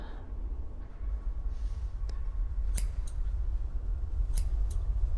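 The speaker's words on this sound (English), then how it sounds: "she's stabbing me with scissors" Sharp scissor snips and stabs in the VR horror game DreadEye, a few crisp metallic clicks spread over a low, steady rumbling background, with no talking.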